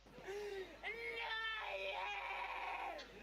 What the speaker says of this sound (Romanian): Ce vrei? De ce țipi?